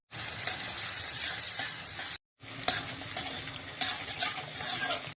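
Onions frying in oil in a kadai, a loud continuous sizzle with stirring scrapes, cut by a brief silent gap midway.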